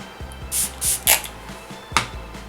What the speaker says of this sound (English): I think I'm just going to spray my hand.